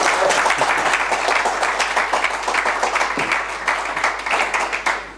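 An audience applauds at a talk in Tres Cantos, with dense, steady clapping throughout that tapers slightly toward the end, and no voices over it.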